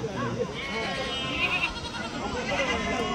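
Goat bleats ring out repeatedly amid a busy crowd of people talking at a weekly goat market in Kadiri, the animal calls wavering and overlapping with the chatter.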